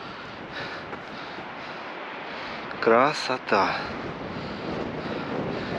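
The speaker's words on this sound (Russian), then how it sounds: "ветер, конечно, очень сильный" Strong wind buffets the microphone on the Crimean coast near Cape Chameleon at Ordzhonikidze, a steady roar with surf beneath it, while a person speaks briefly in the middle.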